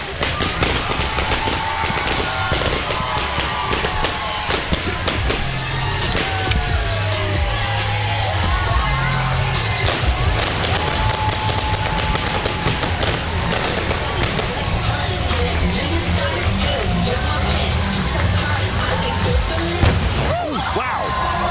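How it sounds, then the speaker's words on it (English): Fireworks boom and crackle over a river parade in Texas, a dense continuous barrage of bursts and pops mixed with crowd noise and talk throughout. "That was a rather large boom right there."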